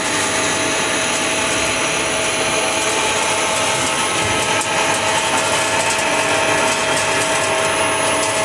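Loud, constant drone of an industrial pre-dryer unit with dense rattling and whirring mechanical noise, unchanging throughout and with no voices.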